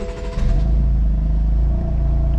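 A 2016 BMW M4, just fitted with a replacement intercooler after a misfire fault, cranks briefly and catches, then settles into a deep, steady, loud idle rumble.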